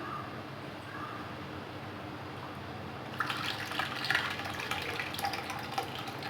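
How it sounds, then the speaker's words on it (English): Water is poured into a bowl of suji uttapam batter made with semolina and curd. After a quiet start, a splashy, bubbling pour runs for about three seconds. "Now it's time to add the water."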